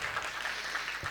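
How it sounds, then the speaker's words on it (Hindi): Audience at a Hindi ghazal and poetry recital applauding in a soft, steady, distant wash of clapping with no speech over it. "तालियां बजाइए"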